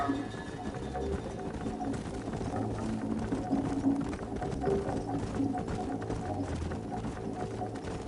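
Horse hooves clip-clopping on a trail in Red Dead Redemption, a steady soft rhythmic patter under low ambient game sound and no speech.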